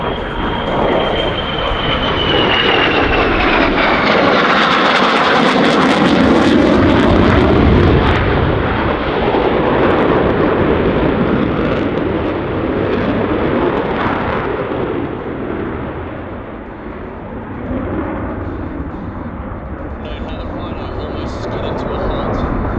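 An RAAF Boeing F/A-18F Super Hornet performs a flying display at an airshow, its jet engines producing a loud, sustained roar that swells and fades as it passes, with a voice speaking over it.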